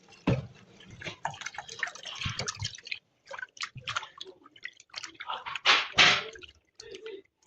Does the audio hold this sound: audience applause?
no